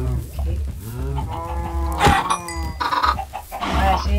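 Minecraft chickens cluck loudly and close in a blocky farm setting, with several quick clucks and squawks following one another in an uneven rhythm.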